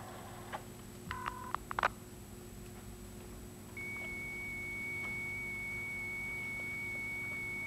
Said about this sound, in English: that's the sound of the computer at the other end, talking over the telephone